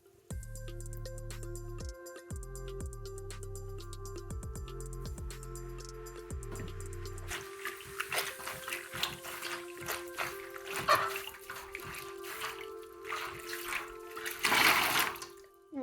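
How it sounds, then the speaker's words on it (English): A natural sea sponge is sloshed, agitated and squeezed in water, giving soft splashes, wet squelches and trickles that build toward the end, fairly quiet and close. "I'm really agitating this sponge because I want the water to penetrate through the whole sponge"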